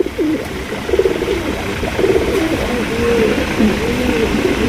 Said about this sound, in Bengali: একজোড়া লাহোরি পেয়ে একজোড়া সিলভার কালারের সিরাজি কবুতর দেখতেই পাচ্ছেন